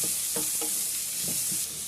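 Onion and curry leaves fry in a pan with a soft, steady sizzle, broken by a few light scraping stirs nearby.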